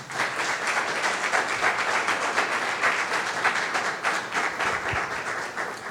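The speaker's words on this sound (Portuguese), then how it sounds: "aplauda o Senhor Jesus." A church congregation applauds during a sermon, producing dense, continuous clapping that stays loud and steady throughout with no speech over it.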